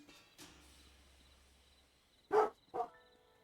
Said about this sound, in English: I don't understand what that dog is barking at